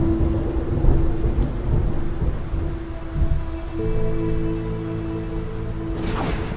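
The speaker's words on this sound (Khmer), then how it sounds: "ខ្ញុំគឺខ្លាចពេលមេឃធ្លាក់ភ្លៀងផ្គររន្ទះនៅក្នុងបន្ទប់ងងឹតណាស់" Steady heavy rain hisses throughout, with low rolling rumbles of thunder beneath it and a brief swelling whoosh near the end, all close and fairly loud with no talking.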